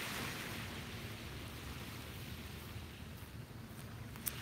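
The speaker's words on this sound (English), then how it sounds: "There's just something about the rhythm of those waves crashing" Ocean waves wash onto a beach in a steady, full roar of surf with no voices, the broad rushing noise holding fairly even throughout.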